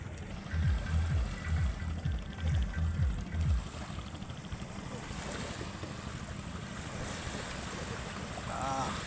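Waves wash along a sandbank of the Jamuna river, a broad rushing swell under gusting wind buffeting the microphone. Low rhythmic thumps sound near the start, and the wash carries on steadily afterward.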